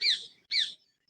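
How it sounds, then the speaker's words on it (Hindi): Two bright, high chirping bird calls, each about a third of a second, heard clearly in an outdoor setting with a short gap between them and quiet afterward. "देख रहे हैं, सुन रहे हैं पक्षियों की आवाज कितने प्रसन्न तरीके से।"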